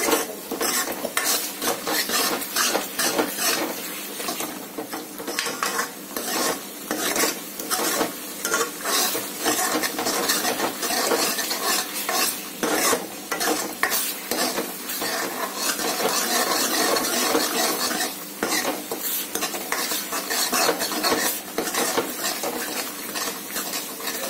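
A ladle stirs dal makhani with cream in a pot, a continuous scraping and clinking of utensil on metal with a faint sizzle of frying underneath, steady and close throughout with no talking.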